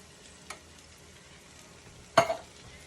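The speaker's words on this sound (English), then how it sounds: "We're going to stir that all in," Diced tomatoes and cooked rice are stirred in a pan against a faint low background, with one soft scrape early on and a sharp louder scrape of the spoon near the end.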